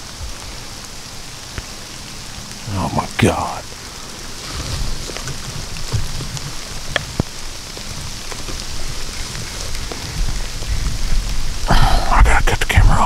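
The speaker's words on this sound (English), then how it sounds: "Where did this rain come from?" Rain falling outdoors in the Georgia woods during a turkey hunt, a steady hiss across the whole stretch that swells louder near the end, with brief close talk and a few bumps and rustles near the microphone.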